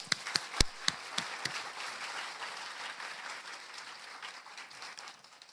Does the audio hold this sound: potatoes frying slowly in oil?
no